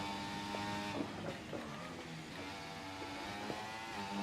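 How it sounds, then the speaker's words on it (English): An Alpine Formula 1 car engine in the F1 24 racing game, a fairly quiet, sustained high-pitched whine with shifting harmonic tones and small gear-change blips. "I really much like how the Alpine sounds"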